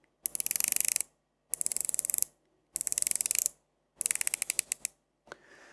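A Pagani Design PD-1668 watch bezel ratchets through a full turn in four quick bursts of crisp, closely spaced clicks, each burst separated by a short pause.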